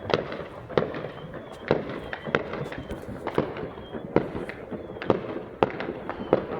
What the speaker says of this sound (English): there's like tons of fireworks over there